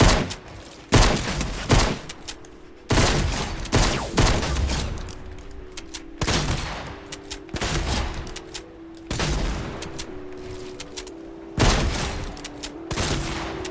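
Rapid shotgun blasts ring out one after another in a Fortnite aim-training course, a loud, regular series of sharp reports with short echoing tails, striking targets with no talking heard.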